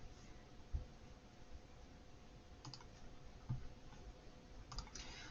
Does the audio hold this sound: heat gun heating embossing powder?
no